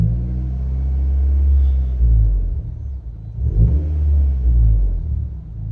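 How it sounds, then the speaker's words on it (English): Idling car engine given a little gas after an oil change, low rumble rising into a couple of short revs and settling back, close and loud with no talking. "just give it a little bit of gas."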